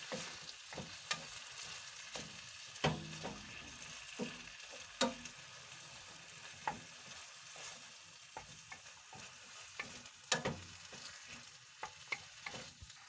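Blanched broccoli being stirred into a hot pan with beef, a steady soft sizzle broken by repeated scraping and clattering stirs of the utensil against the pan, close and fairly quiet.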